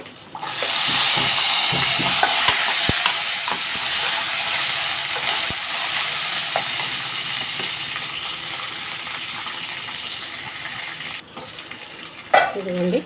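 Peanuts and green chillies frying in a pan for chutney make a loud, dense crackling sizzle that runs almost the whole time, with occasional light taps and a clatter near the end.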